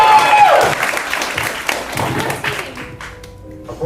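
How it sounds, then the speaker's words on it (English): A live audience at a tabletop role-playing game show claps briefly after a first dice roll, a short burst of applause that thins out within a few seconds. "Everybody clap for that."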